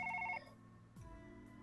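A telephone in a video game gives a short electronic ring at the start, then falls away to quieter game sounds and a low rumble.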